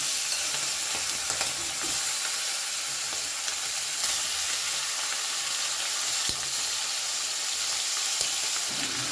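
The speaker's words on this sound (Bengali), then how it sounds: "মাছের মাথাগুলো খুব সুন্দর লাল করে ভেজে নিয়েছি" A steady, loud sizzle of fish heads rubbed with salt and turmeric frying red in hot oil runs throughout, with occasional pops and crackles and no voices.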